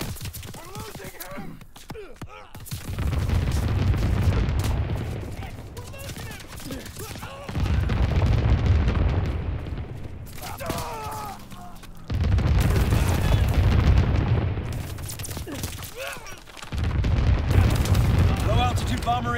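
Repeated deep explosions from incendiary firebombing runs in Call of Duty WWII multiplayer roll in long, loud, booming waves, four bursts spaced a few seconds apart amid busy game sounds.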